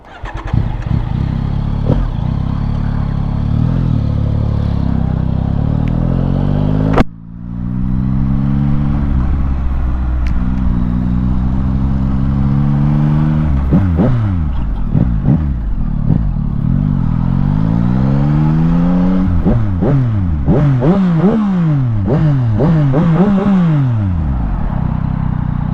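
Yamaha XSR900 motorcycle engine revving hard while riding, loud and close, with repeated rising and falling rev sweeps, a brief drop in the middle, then a string of rapid blips and throttle pulls.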